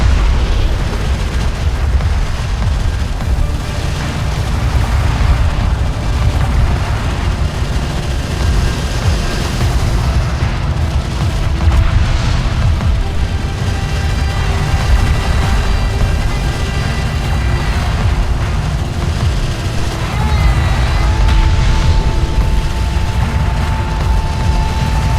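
Continuous rumbling booms and blasts from the Homeworld: Deserts of Kharak battle, loud and dense throughout, with tonal hums and an occasional beep layered over the low roar.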